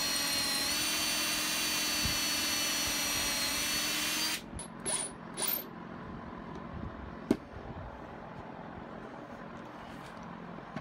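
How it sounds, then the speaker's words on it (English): A power drill pre-drilling holes for a drawer handle on a rolling shop cart runs steadily and loud for about four seconds, then stops, followed by a few quiet clicks and taps. "and pre-drill and attach my handle."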